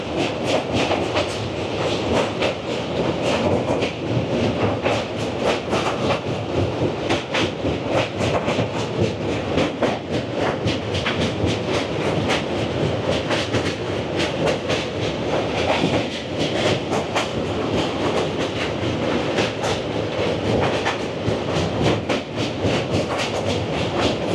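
Agartala to Kolkata Garib Rath Express running along the track near the Dayang river, with a loud, continuous, close rattle and rhythmic clickety-clack of wheels that goes on unbroken, with no voices.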